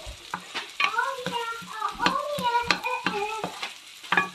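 Chicken sautés with oil, garlic and onion as a utensil is worked around the pan, giving repeated close scraping clacks and squeaky tones over a gentle sizzle.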